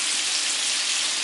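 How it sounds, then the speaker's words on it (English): Mushrooms sautéing in a pan give off a steady, dense sizzling hiss that stays loud and even throughout, with no voices. "cut the rest of these mushrooms up right quick, put them in the pan"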